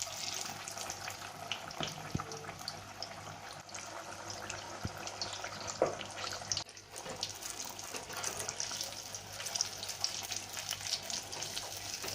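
Stuffed Rajasthani chili pakoras deep-frying in oil, a continuous dense bubbling hiss at moderate level with a few faint clicks, no speech.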